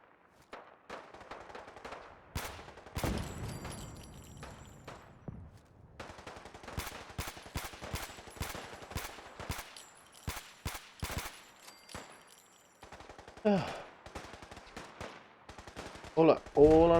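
Scattered gunshots and short automatic bursts in the post-apocalyptic shooter Fallout 4, sharp and loud against near silence, coming in irregular clusters over seventeen seconds with louder, denser volleys near the end.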